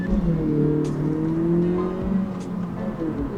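A 2020 Honda Civic Si engine hums steadily from inside the cabin in comfort mode, with smooth rising and falling tones as it drives at moderate pace.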